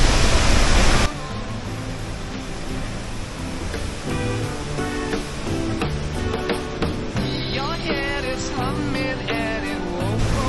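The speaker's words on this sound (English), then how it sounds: "we made it to Vernay Falls" Vernal Fall in Yosemite roars as a steady, dense rush of falling water, with a burst of wind noise at the start and music-like tonal sounds layered on top.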